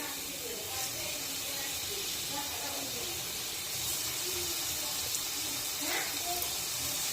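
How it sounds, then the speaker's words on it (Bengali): Dhoka lentil cakes fry in hot white oil, giving a faint, steady hiss with soft bubbling that holds evenly throughout. "এখন আমি ধোকাগুলো ভেজে নেব"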